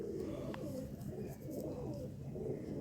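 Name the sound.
Sialkoti pigeon cooing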